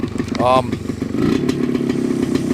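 A 1969 MZ ETS 250 two-stroke motorcycle running nearby with a steady, throbbing exhaust note that rises briefly in pitch on a short rev, while a voice talks over it.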